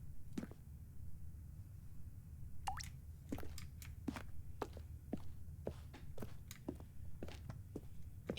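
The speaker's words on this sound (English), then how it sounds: "Ooh, water drips now." Water drips steadily inside the video game The Stanley Parable, a series of irregular small plinks, some close together, over a quiet low background hum, with no voices.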